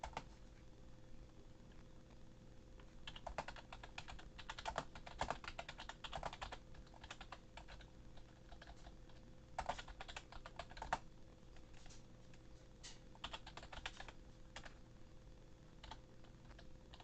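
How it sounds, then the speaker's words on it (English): Bursts of rapid typing on a computer keyboard come in quick clusters separated by short pauses, clicking softly over a steady low background hum, with no talking. "just finishing up typing some rules"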